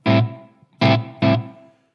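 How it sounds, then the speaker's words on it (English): Three electric guitar notes, one then a quick pair, played through a Strymon Big Sky reverb pedal with short pre-delay, so the reverb sits right on each note and then dies away. "Here's a really short pre-delay. So reverb's right on top of the note"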